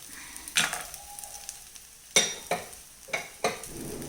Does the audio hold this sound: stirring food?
yes